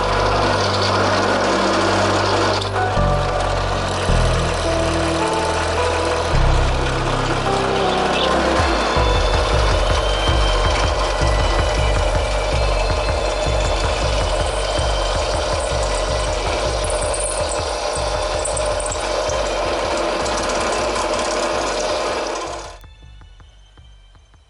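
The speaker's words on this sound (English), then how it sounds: "I was kind of forced to use the drill press for this" A drill press bores holes through steel for a custom neck knife blade, a steady continuous motor whine with grinding texture running loudly and evenly for over twenty seconds before cutting off abruptly.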